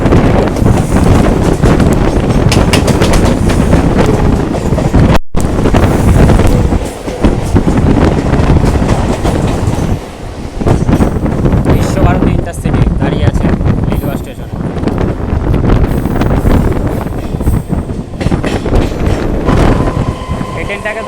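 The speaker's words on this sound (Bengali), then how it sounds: "ছেড়ে দিল আমাদের ট্রেনটি বেলুর স্টেশন থেকে" A local train pulls out of Belur station on the Barddhaman to Howrah line, a loud steady rumble of wheels and carriage noise with heavy wind buffeting, under a voice talking throughout.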